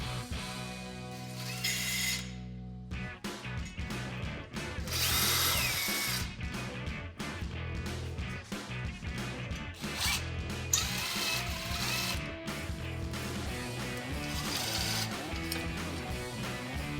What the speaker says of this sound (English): We're going to use a 15mm socket as well as an impact gun to remove these bolts.